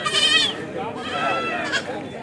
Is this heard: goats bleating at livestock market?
yes